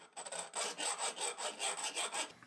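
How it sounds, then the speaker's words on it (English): A chainsaw file rasps around the rim of a Vevor 12K melting furnace, knocking off metal burrs in steady back-and-forth strokes, a close, dry scraping rhythm of about ten passes with no talk. "I'm just going to take a chainsaw file and kind of go around the rim."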